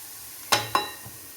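A spatula stirs a sautéing onion-masala base in a pan for egg roast, giving two quick scraping strokes over a soft sizzle, close and alone.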